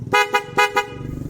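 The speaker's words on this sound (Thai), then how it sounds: "ลูกค้าติดตั้งแตรบอสแท้ด้วยนะครับ 1 คู่" Genuine Bosch horn pair fitted to a vehicle, honking in four short, loud, bright blasts in quick succession, with no talking.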